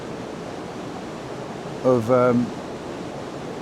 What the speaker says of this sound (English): You can hear the water rushing